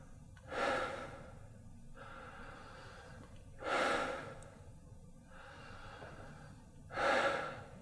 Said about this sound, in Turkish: Burnunuzdan ya da ağzınızdan nefes alabilirsiniz hiç fark etmez.